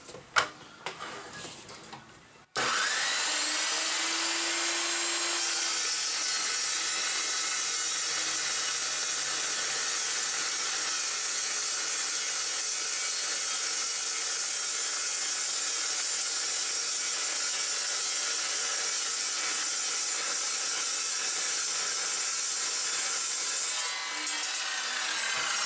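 An Evolution Rage 2 metal cutting saw bites into a thick item, with a brief clunk at the start, then a loud, sustained, even grinding whine that holds steady for over twenty seconds before easing off.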